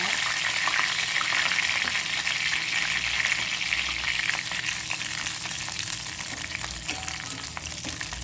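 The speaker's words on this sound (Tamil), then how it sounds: "அடுப்பை நுப்பாட்டி போட்டு கருவேப்பிலையை பொரிக்க போகிறோம்." Steady, crackling sizzle of curry leaves frying in hot oil, close up and continuous throughout, with no talking.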